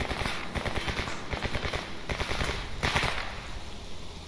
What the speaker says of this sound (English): Looks like you're shooting me, bro.